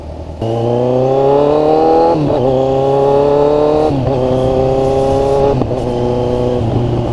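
A Kawasaki Z1000 motorcycle engine revving hard through an Austin Racing exhaust, pitch climbing through several gear shifts with brief dips between, close and continuous.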